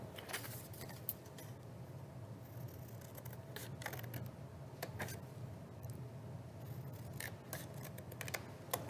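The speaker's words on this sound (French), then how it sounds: "donc je vais découper avec mes ciseaux." Scissors snipping through paper to cut out a paper tree shape at a parent-child craft workshop at Maker Faire Paris, a series of faint, irregular clicks and snips over a low, steady room hum.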